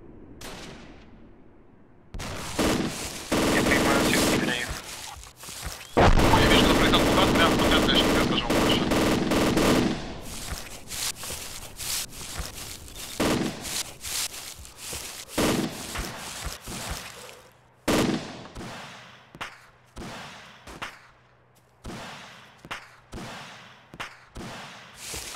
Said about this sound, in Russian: орудие бахает